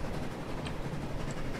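Train running on rails in the Transport Fever video game, a steady rumbling roll with faint clickety-clack, continuous and even throughout, with no talk.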